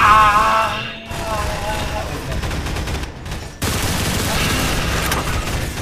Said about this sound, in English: Oh, I return fire!